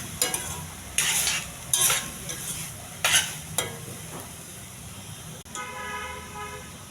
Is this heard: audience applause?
no